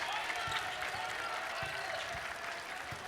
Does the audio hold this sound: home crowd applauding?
yes